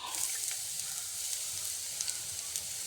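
Chopped taro leaves and stems drop into a pan of browned frying onions, giving a steady, close hiss of sizzling oil with faint crackles and ticks throughout; nobody speaks.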